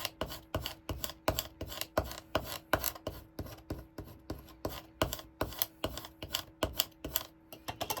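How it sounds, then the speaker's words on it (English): Vinyl being burnished with a tool while weeding a Cricut-cut design, heard as a close, steady run of quick rasping scrapes and taps in an even rhythm with no talk. "You just keep burnishing it is what it's called"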